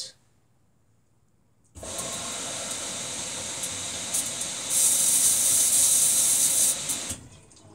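A Samsung WF45N5300AW front-load washer sprays water during the final rinse of a heavy duty cycle with a king-sized comforter, starting abruptly after silence as a steady hiss that grows louder and brighter before cutting off.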